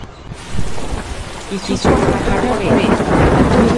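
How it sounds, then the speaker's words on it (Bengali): Thunder rumbles through a cartoon forest at night, followed by steady, heavy rain that keeps pouring close and loud, with no talking over it. "বৃষ্টি নামলো"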